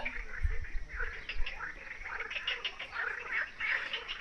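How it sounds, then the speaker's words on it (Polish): Outdoor pond ambience at Blue Eye spring in Albania with scattered frog croaks and duck calls, mid-distance, steady and moderately faint, with a few low thumps early on. "Żaby, kaczuchy."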